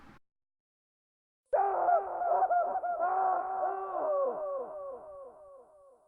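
A screaming sound effect from a zombie video game map mod starts after a short silence. Tonal wailing cries follow, with several voices overlapping, and they waver and slowly fade as if far away.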